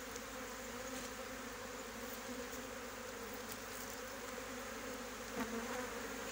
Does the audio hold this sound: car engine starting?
no